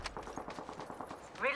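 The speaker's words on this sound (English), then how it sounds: "I'm getting shot at." Rapid bursts of gunfire aimed at the player in Apex Legends, a run of quick crackling shots at moderate distance, ending in a brief brighter game effect, with no one talking.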